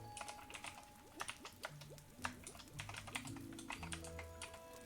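Rapid, uneven typing on a computer keyboard, close and crisp, with clusters of keystrokes and brief pauses, recorded with a binaural 3Dio microphone in an ASMR livestream setting.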